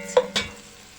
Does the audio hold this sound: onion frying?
yes